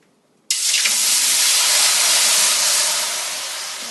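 A sudden loud hiss of steam bursts out as water is poured into a preheated 475-degree oven, holding steadily, close by, fading slightly toward the end.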